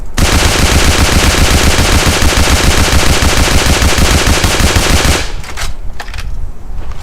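Automatic fire from an MP40 submachine gun in the game AVA, loud rapid shots running steadily for about five seconds, then stopping abruptly with a brief ringing tail and faint clinks.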